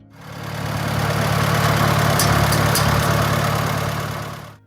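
A Farmall H tractor engine runs at a steady idle, a loud continuous low mechanical chug with a rhythmic throb that swells in at the start and fades away at the end, with no voices.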